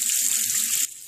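Water running steadily over the plastic filter of a Rheem tankless water heater as it is rinsed, a close, continuous hiss that cuts off near the end.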